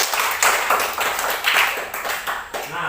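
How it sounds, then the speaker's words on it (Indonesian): Classroom applause for a student group, a short round of clapping from a small group of students, with uneven, loosely spaced claps lasting about three seconds. "Tepuk tangan buat kelompok 3"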